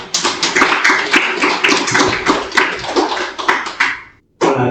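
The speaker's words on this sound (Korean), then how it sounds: "서로 위해 박수" A church congregation claps for one another in a steady burst of many hands, loud and close, then cuts off abruptly before a brief resumption at the very end.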